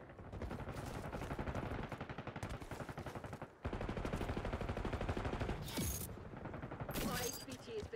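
Sustained rapid automatic gunfire in the Black Ops 6 video game, loud and dense almost throughout, with a short break midway and sharper bursts near the end, without voices.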